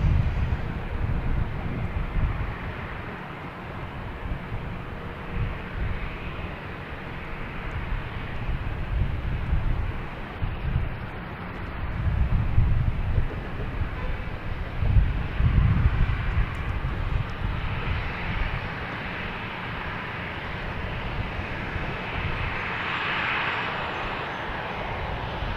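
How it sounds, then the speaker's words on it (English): A Delta Airbus A330 arriving from Rome on approach to Boston Logan, a steady broad jet roar that swells and fades over about 25 seconds, moderately distant, with wind buffeting the microphone and no talking. "Delta, an A330 coming in from Rome"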